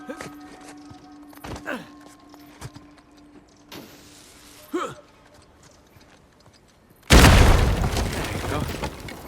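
An explosion blows open a door in the video game Uncharted 4, a sudden loud boom with a rumbling tail arriving after quieter footsteps and small clatters.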